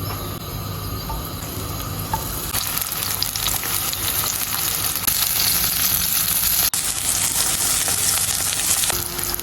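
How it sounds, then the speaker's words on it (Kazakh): Sliced vegetables such as zucchini and eggplant frying in oil in a hot pan for a grilled salad, giving a steady, loud, close sizzle that runs unbroken throughout with no talking. "Енді осыны қазір қуырамыз."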